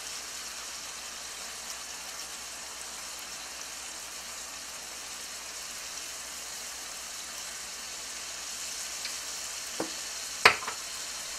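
Scallops sizzling in a pan, a steady, even fry hiss throughout, with a few brief clicks and a sharp tap near the end.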